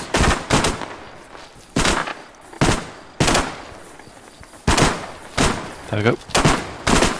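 Gunfire in Arma 3 on Stratis with heavy sound mods: loud single shots and short bursts fire at irregular intervals, each with a booming echo, while a voice speaks briefly between them.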